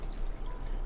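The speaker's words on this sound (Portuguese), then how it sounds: "E vou botar o restante da água aqui" Water being poured into a bread dough mix for a wine loaf with walnuts and figs, a brief, close, steady liquid rush with no talk over it.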